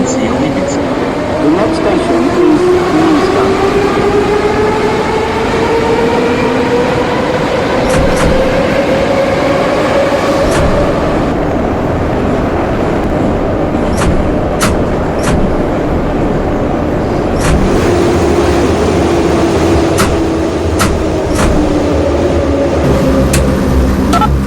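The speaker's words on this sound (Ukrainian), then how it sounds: "У зв'язку з відновлювальними роботами поїзд прямує до станції." A metro train on line M2 rolls along in the Kyivmetromasters simulation game, a loud steady rumble with rising and falling motor whine and occasional clicks. Station announcements play over it.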